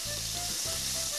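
Scallions, garlic and pork leg meat sizzle loudly in a wok, a dense steady frying hiss with a low stirring rumble, no voices.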